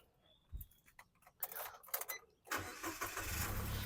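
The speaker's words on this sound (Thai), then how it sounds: "เดี๋ยวเรามาดูในส่วนเครื่องยนต์และฟังเสียงเครื่องยนต์กันบ้างนะครับ" A 2014 Nissan Almera engine cranks with a few short bursts, then catches and settles into a steady, loud idle close by.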